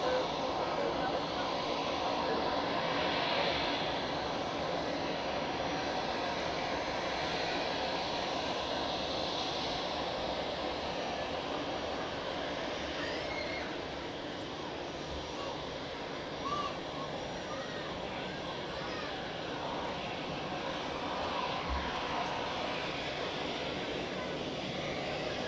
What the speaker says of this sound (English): the A340 to Shanghai is moving